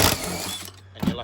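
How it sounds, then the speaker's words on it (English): A ratchet on a 14mm socket undoes a tight seatbelt bolt in a Mitsubishi Pajero Sport, giving a brief close mechanical clicking burst with a short rattle near the end. "to a 14mm and undo your seatbelt bolts"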